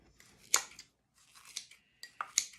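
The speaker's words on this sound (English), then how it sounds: "I'm going to use an old pair of our kitchen shears" Old kitchen shears snip through fresh cilantro over a prep bowl, giving a few crisp, close snipping bursts with short pauses between cuts, no voices.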